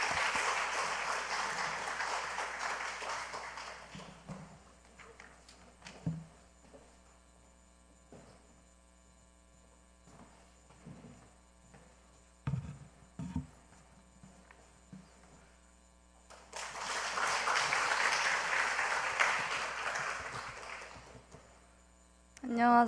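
A church congregation applauds during a new-members graduation and baptism service, with a dense burst of clapping at the start and another later, separated by a stretch of quieter room sound with scattered knocks over a steady mains hum.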